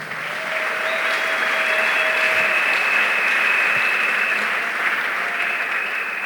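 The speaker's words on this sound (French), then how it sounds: "Acclame Jésus-Christ" A church congregation applauds at a sermon, with sustained, dense clapping at steady loudness throughout, filling the whole stretch without a break.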